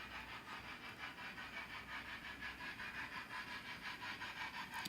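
A J50 model railway locomotive runs along the track, pulling a train with a steady, faint rhythmic clatter and whirring hum, heard close with no speech.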